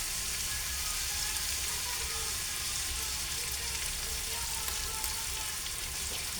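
Food fries in a pan with only a little cooking oil, a steady, even sizzling hiss that stays constant at moderate loudness with no voices over it.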